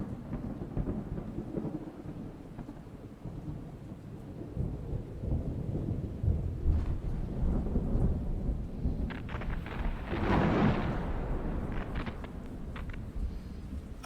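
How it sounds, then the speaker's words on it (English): Thunder from a distant storm rolls in low, continuous rumbles over steady rain, swelling to a louder crack and roll near the end before easing back to a dull growl. "Perhaps it was nothing but the rumbling noise of a distant thunderstorm."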